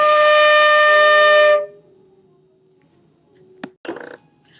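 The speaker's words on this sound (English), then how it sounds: "So when we put that on the flute" A single sustained flute note, played with a relaxed embouchure, sounds clearly for about a second and a half before stopping, followed by faint room noise and a couple of brief knocks.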